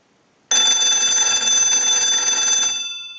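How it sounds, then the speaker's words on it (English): Cracraft Leich wooden wall telephone with its bell ringing from a line analyzer's ring cycle, a loud continuous metallic clatter lasting about two seconds that then fades as the bell stops. "send a ring cycle like you were getting a call"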